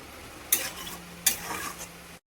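Prawns frying in a pan over a low gas flame are stirred with two distinct scraping strokes over a soft, steady sizzle, close and brief.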